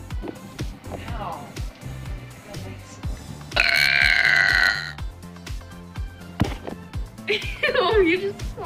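Two long, loud burps stand out over a thumping music beat, the first sustained and harsh, the second rising and gurgling, with people talking around them.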